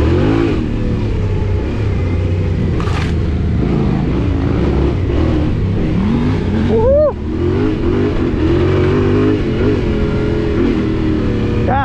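A new KTM 790 Adventure R motorcycle rides a flowy trail with a loud, close engine droning and revving continuously, its pitch rising and falling through gear changes.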